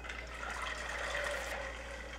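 Fresh water pours steadily over rinsed pinto beans in a home kitchen, a soft continuous splashing gush with no talk.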